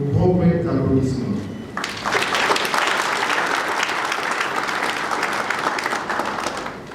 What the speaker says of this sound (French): Nous méritons nos propres applaudissements.